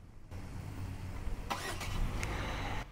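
A 2022 Hyundai Stargazer seven-seat MPV is started remotely with its key fob. A steady engine hum sets in and holds, with a few brief higher clicks or chirps partway through; no voices.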